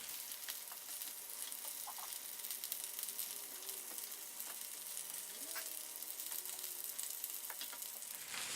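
Ground beef and sliced potato layers sizzle quietly in a covered pan, a soft steady frying hiss with faint pops and occasional light scraping, distant and low in level.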